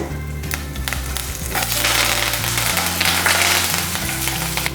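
Mustard seeds, lentils, dried chillies and curry leaves crackle and sizzle in hot oil while tempering for an amla rice dish, a loud, close, continuous frying hiss with popping bursts and no talking.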